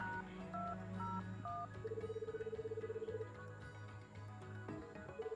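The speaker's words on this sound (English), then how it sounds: "I called Jacob's room." In the Return to Shironagasu Island video game, a telephone call to a hotel room produces a sequence of dialing tones and a repeating pulsed ring over soft background music, with no voices.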